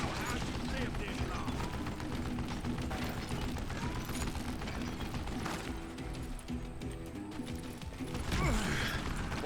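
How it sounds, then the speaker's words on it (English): A Gatling gun in the video game Call of Juarez: Gunslinger fires a dense, sustained rattling barrage with mechanical clatter, continuous and loud throughout, with other game sounds underneath. "I'm not afraid to face you, I'm just afraid of your Gatling gun."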